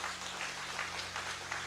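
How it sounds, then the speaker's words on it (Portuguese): A church service audience claps for Christ, a brief stretch of moderately loud, even applause from a crowd, with a low steady hum underneath. "Quem compreende, aplauda Cristo bem forte"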